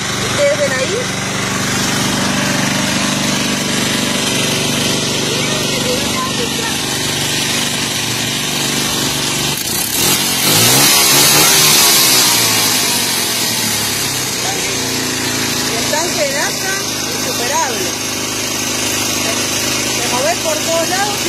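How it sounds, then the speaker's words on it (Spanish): A Ford Ranchera fitted with a motorcycle engine, kick-started with a small lever, runs with a steady buzzing rattle. It swells into a louder burst midway, then settles back to a loud, close idle, with people talking over it. "Ah, miren cómo prende, la ranchera."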